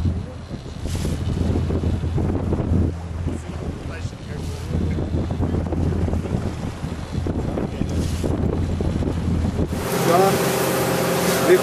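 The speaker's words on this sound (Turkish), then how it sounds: "Çok büyük bir fırtınanın ortasında kaldık." A storm at sea pounds a fishing boat off Phuket with heavy rain, strong wind and big waves, making a steady loud roar and rushing noise throughout that grows harsher and brighter near the end, with a voice talking over it.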